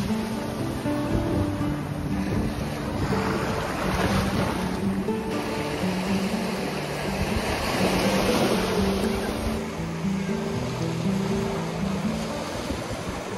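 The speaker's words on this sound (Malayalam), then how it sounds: "ഇങ്ങനെ ചെറിയ തിരമാലകളൊക്കെ നോക്കിയിരിക്കാൻ തന്നെ ഒരു രസമാണ്" Small waves break and wash over the shell-and-pebble beach of St Mary's Island, a steady, moderately loud surf murmur with wind noise running throughout and no speech.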